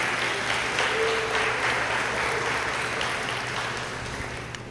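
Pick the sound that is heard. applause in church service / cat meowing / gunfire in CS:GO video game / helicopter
applause in church service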